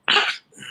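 A single sharp sneeze bursts out loud and close, breathy and bright, followed by a softer trailing exhale.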